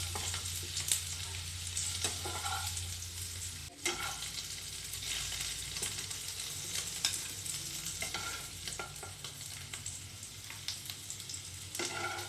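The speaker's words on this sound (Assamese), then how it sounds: "আলুখিনি ফ্ৰাই হৈ গৈছে" Potatoes fry in hot oil in a pan with a continuous bright sizzle, broken by occasional scraping stirs, close and steady with no talking.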